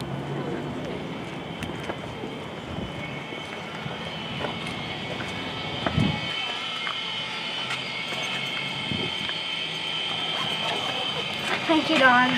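A small propeller airplane engine running steadily, a continuous drone with occasional thumps, while people talk nearby.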